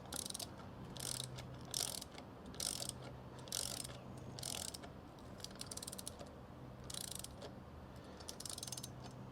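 A ratchet tightening the wheel nuts on a newly fitted brake rotor, giving repeated quick bursts of clicking with short pauses between them, close and fairly quiet.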